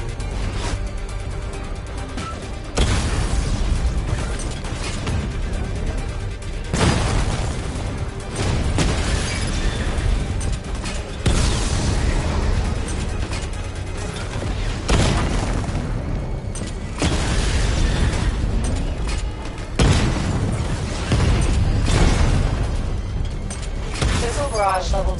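Heavy, booming explosions from the Batmobile's secondary weapon barrage in Batman: Arkham Knight roll out in loud repeated waves, dense and continuous, with game voice lines mixed in.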